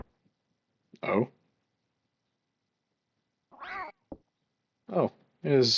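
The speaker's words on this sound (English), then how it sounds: "it is just a really fat cat" A cat meows several times in the Super Famicom horror game Clock Tower: The First Fear, a short cry followed by a pause and then a quick run of three more calls, clear and alone against silence.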